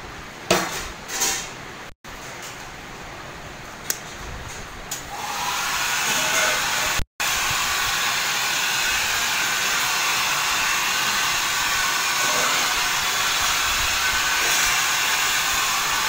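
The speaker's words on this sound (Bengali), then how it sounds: "এবারে সিমন করবে ড্রায়ার" A hair dryer blows steadily on freshly self-cut curly hair, its broad whooshing roar rising after a few seconds of clattering handling and then holding loud and constant, with no talking.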